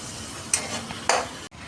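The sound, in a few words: stirring onions with ground masala in a pan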